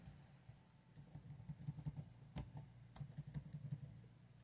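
Computer keyboard keys clatter in quick, uneven bursts of typing-like presses during play of Scott Pilgrim Vs The World: The Game, close and fairly quiet with no voices.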